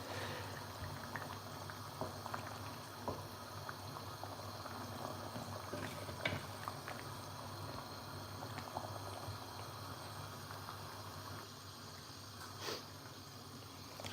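Liquid in a pot heats toward a boil with a low, constant bubbling hiss, a few faint stirring knocks and clinks along the way, and no talking.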